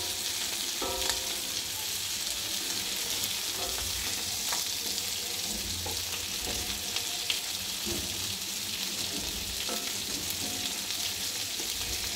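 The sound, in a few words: sarpunti fish frying on a large tawa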